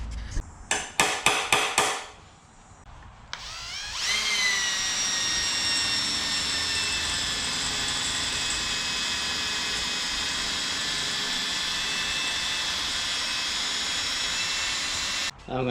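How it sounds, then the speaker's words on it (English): A power drill bores a hole in a 2007 Yamaha YFZ450 SE ATV frame: a few sharp knocks and clatter at the start, then a steady, loud high-pitched whine running continuously for about twelve seconds, close up. "I'm going to drill a hole in here"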